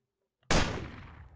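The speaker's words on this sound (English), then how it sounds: "it has perfectly understood that it was a gunshot" A single sharp gunshot cracks after a brief near-silence, loud and close, its boom decaying over roughly a second with a trailing rumble.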